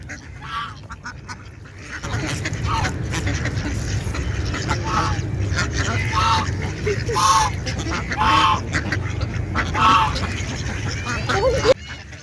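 Ducks being fed popcorn at Karachi Safari Park quack in a run of repeated, fairly close calls over a steady outdoor background, with people's voices nearby.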